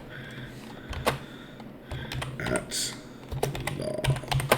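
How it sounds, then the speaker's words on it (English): Quick bursts of typing on a computer keyboard, light close clicks in uneven runs while a person speaks over them. "And I can type attorney."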